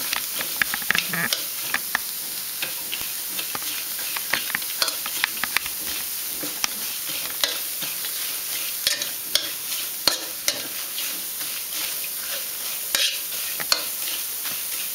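Lemongrass, kaffir lime leaves and coriander root dry-roast in a pan with a bright crackling sizzle and a dense run of quick rustling stirs and scrapes, steady and close for the whole stretch.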